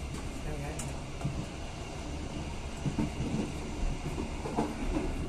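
A passenger train runs on rails between Medan and Kuala Bingai, heard from inside the carriage as a steady rumbling with faint rhythmic clatter of wheels, while people talk quietly in the background.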